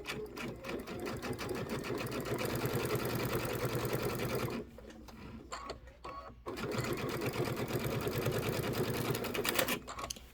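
Sewing machine running steadily while stitching quilt blocks together, a loud continuous whirring hum that pauses briefly midway, then resumes.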